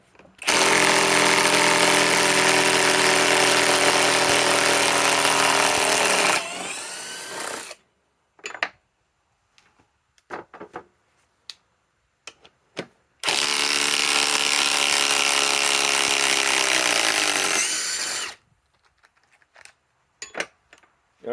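Two compact cordless impact wrenches, a Harbor Freight Hercules Gen2 and a Ryobi PSBIW25, take turns removing fasteners, each giving a loud, steady hammering whine of about six seconds, with quiet clicks and handling noises in the pause between them.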